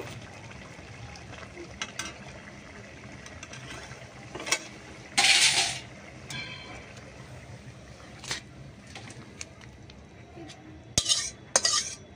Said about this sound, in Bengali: এখন এটা আমি ঢেলে নেব।